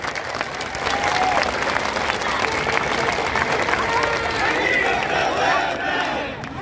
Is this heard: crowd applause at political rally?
yes